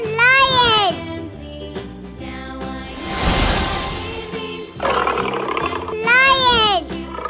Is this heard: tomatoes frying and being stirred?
no